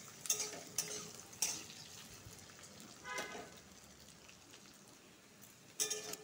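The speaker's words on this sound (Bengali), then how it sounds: "আলুটা আধা ভাজা হয়ে গেছে।" Thickly cut potatoes half-fried in a pan, a faint low sizzle with a few sharp clinks and scrapes of a utensil stirring, close and quiet.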